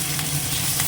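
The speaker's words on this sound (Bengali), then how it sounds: "আবার জিরে শুকনো লঙ্কা ফোড়ন দিয়ে মাছের মাথাটা ভাজতে দিয়েছি।" A fish head fries in hot oil seasoned with cumin seeds and dried red chillies, giving a steady close sizzle with a low hum underneath and no talking.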